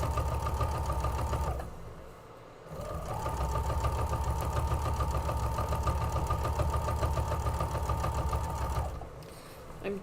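A sewing machine stitches a quilted table runner with a steady, close mechanical whir that pauses briefly near the start before running on for the rest of the clip.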